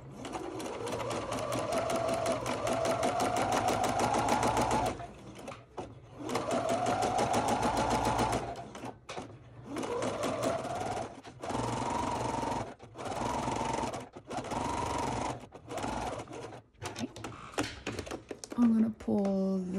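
Sewing machine stitching fabric for a doll dress, running in several rapid bursts of even, buzzing needle strokes separated by short pauses, close and fairly loud, with a person speaking between runs.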